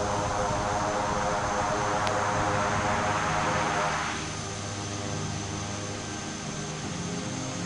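Airliner touching down in a flight simulator game and roaring into full reverse thrust, a loud broadband engine rush that eases off partway through.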